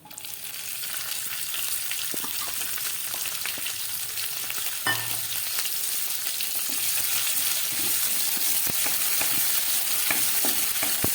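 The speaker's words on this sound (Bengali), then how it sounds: "এক মিনিট মতো ভেজে নিলাম পেঁয়াজ, ক্যাপসিকাম, টমেটো।" Onion, capsicum and tomato fry in a pan, giving a steady close sizzle with occasional stirring scrapes and clinks throughout, no voices over it.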